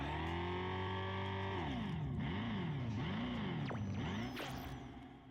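A Dodge electric car plays an artificial engine note through a speaker: a droning synthetic tone that holds steady, then wobbles up and down in revving swoops before fading away, with no voices.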